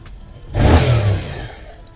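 A Yamaha motorcycle engine, either an FZS V4 or an MT-07 at a dealership, gives one sharp, loud rev that swells and then fades back toward idle, heard close up with no talking.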